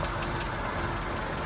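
A 1973 Citroen DS23 Pallas with a five-speed manual and a carburetor engine idling, a steady even rumble with a light knocking pulse, close and alone.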